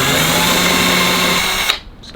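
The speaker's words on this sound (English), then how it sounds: "once I drill this in and put the adhesive down" A close electric drill whirs at a steady pitch boring into wood, then cuts off abruptly and winds down, followed by a brief clatter.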